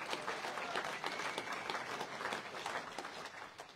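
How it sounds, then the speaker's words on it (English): Applause from the crowd at a public meeting in Invercargill opposing Three Waters, a quiet, steady wash of many hands clapping that lasts a few seconds. "give yourselves a good round of applause for getting out and for getting vocal."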